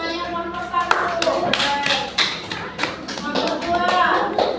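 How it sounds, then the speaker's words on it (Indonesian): Children in a classroom clap their hands, sharp uneven claps close by in loose bursts, with kids' voices and chatter mixed in. "Tepuk tangan, temannya nomor 1."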